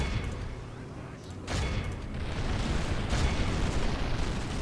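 Artillery fire rumbles through a battle in the strategy game Total War: Warhammer, a dense low roar of distant booms and blasts with a few sharper bursts, steady and continuous with no talk.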